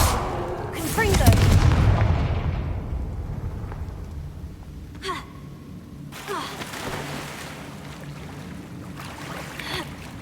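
Confringo fire spell blasts in Hogwarts Legacy, a loud booming burst near the start followed by a fading rumble and a couple of smaller sharp impacts later, with speech in the clip.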